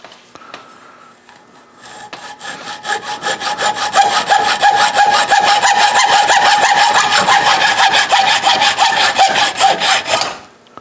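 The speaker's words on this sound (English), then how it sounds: "we're going to use the edge of the wood to guide our hacksaw to make a" Hacksaw cutting a rod against the edge of a wooden guide, loud close rhythmic rasping strokes that build up quickly and continue steadily for about eight seconds before stopping abruptly.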